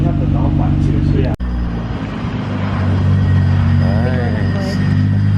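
Nissan GT-R engine idling with a deep, steady low exhaust rumble close by, a brief sharp knock early on, and people talking over it.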